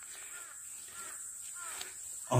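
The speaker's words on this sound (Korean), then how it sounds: "까마귀들 소리가." Crows caw a few times in the distance over quiet autumn mountain ambience, faint and spaced out, before a louder rustle at the end.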